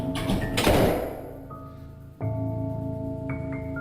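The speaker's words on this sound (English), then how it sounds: "That door at the end of the hall opens and closes too." A door at the end of a hallway, seen on haunting CCTV footage, opens with a muffled thump and then shuts again, heard at a distance over a steady electrical hum with faint tones.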